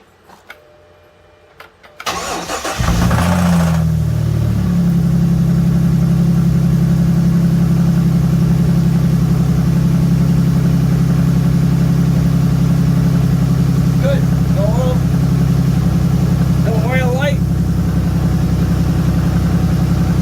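A 2007 Dodge Nitro with a low oil pressure problem cranks briefly after a few quiet clicks, then catches and settles into a loud, steady idle that drones on close by, with a couple of faint chirps.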